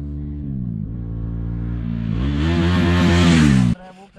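Motorcycles make a fly-by on a salt lake, engine tone climbing steadily in pitch and loudness as the bikes approach, then cutting off abruptly as they pass close by.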